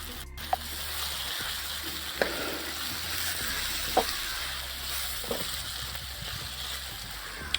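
Curry leaves and other tempering ingredients for mandakki oggarane, a puffed rice dish, fry in a pan with a quiet, continuous sizzle broken by a few sharp clicks and pops.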